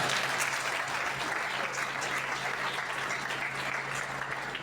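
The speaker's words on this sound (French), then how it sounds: "J'aimerais que vous acclamiez les Seigneurs pour ces 26 ans." A church congregation marking a Pentecostal church's 26th anniversary applauds in a dense, steady, sustained wash of clapping.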